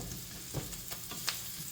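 Garlic and onions frying in a pan on a road-trip stove, a soft steady sizzle with faint crackles, quiet and close, no talking.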